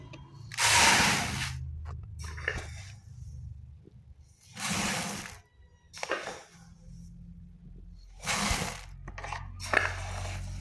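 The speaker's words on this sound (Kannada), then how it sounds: "ಇದರಲ್ಲಿ ಇವಾಗ ಅಕ್ಕಿನ ತುಂಬ್ಕೊಳ್ಳೋಣ ಫ್ರೆಂಡ್ಸ್" Rice is poured into a container at close range in four separate bursts of rattling, hissing grains, each about a second long, with quiet gaps between them.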